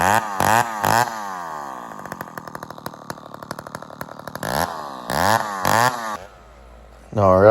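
A 1968 Lombard chainsaw bucking a felled oak log, with repeated revving bursts and a sustained cutting drone between them, close and loud, ending in a quieter idle before one more rev.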